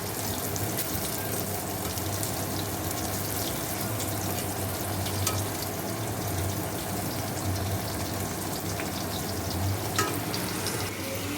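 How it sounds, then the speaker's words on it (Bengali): Steady frying sizzle of bitter gourd in a pan, continuous and moderately loud, with occasional faint clinks and stirring sounds, no talking. "আমি করলাগুলো ভেজে তোমাদের দেখাচ্ছি"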